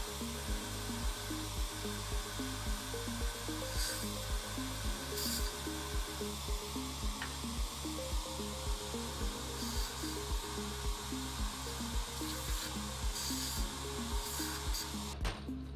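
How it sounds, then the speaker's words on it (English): A lab vacuum clears residual celite and ash from crucibles, producing a steady, fairly quiet motor drone with a regular pulsing beat throughout and no talk. "Remove any residual celite and ash material by using a vacuum."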